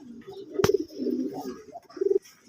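A pair of sky-blue Rajgolla pigeons coo nearby in soft, low, throaty bursts, with a sharp click between the calls.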